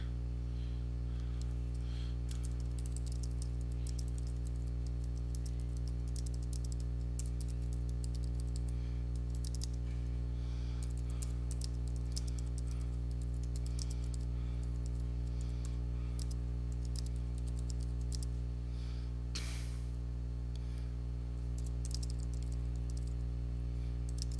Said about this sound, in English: I'm just going to type my welcome message